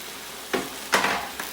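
Cabbage stir-frying in a pan for chop suey, a soft sizzle punctuated by two or three quick scraping tosses of the utensil, close and without talk.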